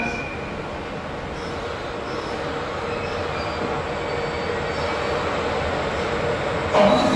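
A heavy JR Freight EH500 electric locomotive hauling an up freight train rolls into Kuroiso Station on the Tohoku Main Line close by, a steady grinding rumble of wheels that builds slightly, ending with a brief metallic squeal.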